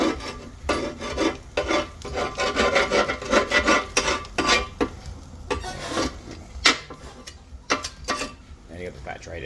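A barbecue grill with coated grill plates and a flat plate being scraped and wiped clean, giving repeated rasping strokes in an uneven rhythm, close and fairly loud, with brief pauses between bursts.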